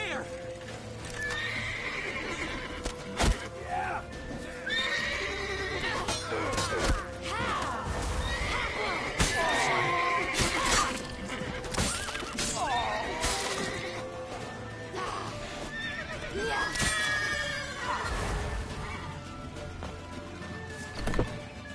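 A horse in The Witcher 3 neighs and whinnies repeatedly amid galloping clip-clop hooves, crashes and shouting voices, loud and busy throughout.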